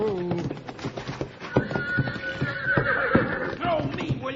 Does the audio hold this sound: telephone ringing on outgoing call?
no